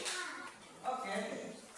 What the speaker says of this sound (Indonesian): Tekan dulu, tekan tepuk tangan.